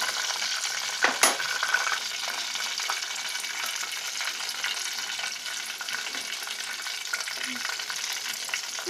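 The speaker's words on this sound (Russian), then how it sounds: "Масло прогрелось, и теперь опускаем в него хворост." Khvorost dough pastry, made with kefir, fries in hot oil with a steady, dense sizzle and crackle, plus a brief clink near the start.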